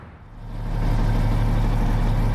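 Steady low diesel rumble of a semi-truck engine in American Truck Simulator, starting softer and rising to a constant loud idle drone with no talking over it.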